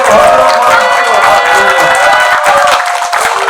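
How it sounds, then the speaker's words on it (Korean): Loud, close audience applause with cheering at a live political talk event in Korea, a thick continuous roar of clapping and shouts sustained throughout, with voices rising in the crowd. "이런 때는 힘내시라고 박수 한번 세게 한번"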